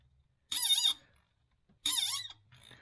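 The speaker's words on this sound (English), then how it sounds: "It's squeaking at me, but it's not very tight." Two loud, high-pitched squeaks come from a Land Cruiser 3FE injector being tightened into its aluminum cylinder head, each lasting under half a second with a fainter third squeak after.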